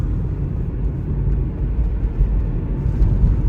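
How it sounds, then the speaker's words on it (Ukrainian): A Renault Megane 2 on the road with low tyre pressure sends a steady low tyre hum and drone through the cabin, continuous and fairly loud, with no talking. "Прям резина гудить прям"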